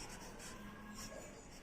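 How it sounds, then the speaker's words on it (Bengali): Pen or marker scratching steadily while writing out a math problem during a class lesson, a faint, continuous rasp with soft strokes close by and no talking. "লিখি আমি"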